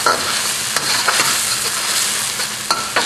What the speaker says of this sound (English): So I'm heating up my aromatics.